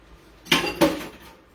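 A metal whisk and utensils dropped into a kitchen sink make two quick clattering clanks close by.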